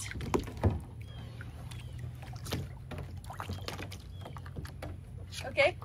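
An Oru folding kayak is turned over in open water, with irregular splashes and sloshing against the hull and people talking nearby throughout.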